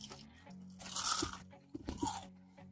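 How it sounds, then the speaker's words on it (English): Crisp crunching of fried squid rings being bitten and chewed at a restaurant, sounding up close in a few bursts: one bite near the start and a cluster of crunches near the end, with no talking. "Listen to the crunch, people."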